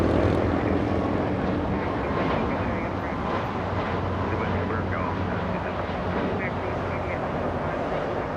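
An Air Canada airliner bound for Vancouver rumbles steadily at an airport, a broad continuous engine roar holding level throughout with faint voices mixed underneath.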